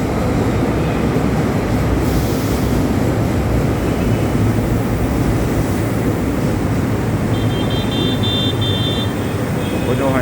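A continuous rumbling roar comes from riding inside an LRT Line 2 light rail train, steady and loud throughout, with a faint high whine near the end.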